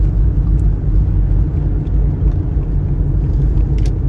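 Steady low rumble of traffic heard from inside a moving car, with other cars driving around it continuously, no speech.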